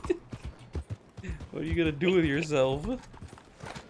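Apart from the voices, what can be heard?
horse hooves clip-clopping in a video game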